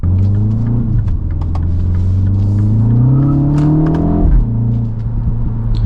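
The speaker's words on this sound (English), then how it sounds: "you get a little bit of some fake pops and bangs out of this speaker system here" A 2025 MINI Cooper JCW Convertible engine drones loudly and revs up in pitch before dropping back, with faint synthetic exhaust pops and crackles from its speaker system ticking lightly on top.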